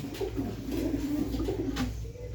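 Pigeons coo softly and continuously at close range, a low rolling murmur over faint background noise, with no one speaking.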